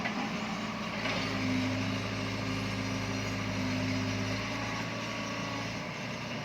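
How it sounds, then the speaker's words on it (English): A car engine hums and road noise rushes continuously, a steady drone of a car cruising at speed along a highway in Kentucky, with no talking. "going down the highway"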